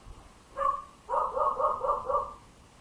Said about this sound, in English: And yes, my dog is barking in the background.